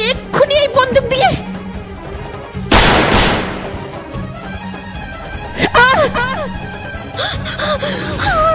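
A single loud gunshot from a gun in a Bengali drama bursts out midway, a sharp blast with a decaying tail, between emotional sobbing and wailing voices.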